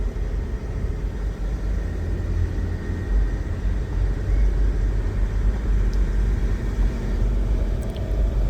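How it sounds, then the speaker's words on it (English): An Ineos Grenadier truck climbs a hill, its engine droning and rumbling steadily from inside the cabin under constant road noise, with no clear gear change standing out. "Let's see if it'll kick in the second gear coming up the hill."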